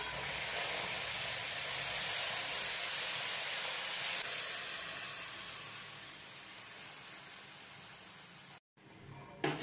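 Warm milk poured into semolina frying in a pan for mohanbhog, a loud steady hiss and sizzle that holds for several seconds, then eases off and cuts out briefly near the end.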